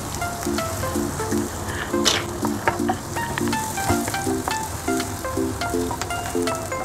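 Potatoes with cumin seeds fry in a pan, lightly browning, with a steady, dense sizzle and crackle throughout, close up and alone.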